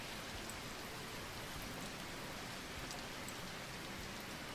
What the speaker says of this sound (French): on aura la pluie qui nous aura gâché un petit peu la vue